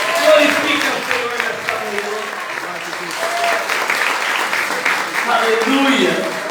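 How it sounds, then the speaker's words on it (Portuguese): Congregation applauding during a church worship service, steady sustained clapping mixed with raised voices and shouts throughout, fairly loud and continuous. "Se você quer, faça barulho e aplauda o Senhor"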